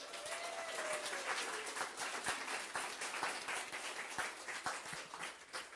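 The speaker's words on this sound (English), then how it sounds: "We are going to give a huge round of applause to our panel." A crowd applauds a panel at an event, steady moderately distant clapping from many hands with no one talking over it.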